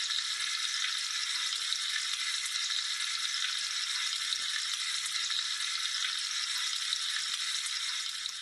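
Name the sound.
food sizzling sound effect from model locomotive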